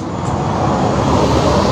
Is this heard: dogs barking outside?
no